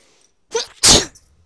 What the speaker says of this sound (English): Ah, I sneezed.